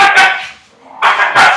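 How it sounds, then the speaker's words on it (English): A dog barks loudly and close by during an indoor podcast, two sharp barks separated by a brief pause, with no talking. "Cody, stop barking!"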